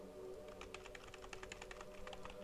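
Someone types quickly on a computer keyboard during a Half-Life 2 roleplay session, a dense run of sharp, close clicks over a steady low electrical hum.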